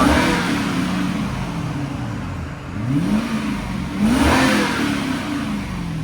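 A 2006 Lexus SC 430 with a 4.3L V8 and a muffler delete idles with a deep burble, then revs twice. Each rev rises sharply in pitch and falls back, loud and close.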